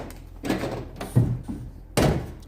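Several close clunks and thumps from the trunk of a Lotus Evora S being released and opened, ending in a firm thud, heard alone without talk.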